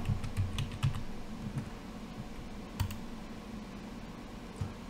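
Computer keyboard being typed on to enter a password while configuring a Hikvision IP intercom system, a scatter of soft, close clicks, busier at first and then sparser, over a faint room hum.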